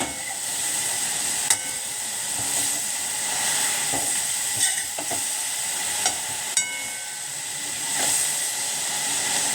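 Amaranth leaves cooking in a pan over medium heat give a steady, close sizzling hiss that runs throughout, with a few sharp crackles and pops and no talk.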